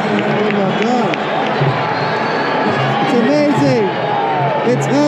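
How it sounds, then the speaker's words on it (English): A large crowd at Yankee Stadium in the Bronx roars and cheers continuously, loud and close, with whoops and shouts rising above a dense wall of voices throughout. "crowd is going crazy over here"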